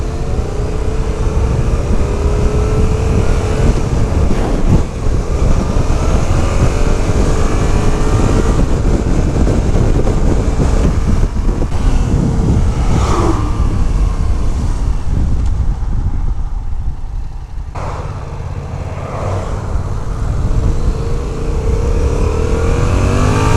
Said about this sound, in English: this bike has a parallel twin 689cc engine.